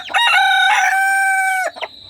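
A desi rooster crowing in the evening, one loud, close, drawn-out call lasting over a second, ending in a short trailing note, with no talking.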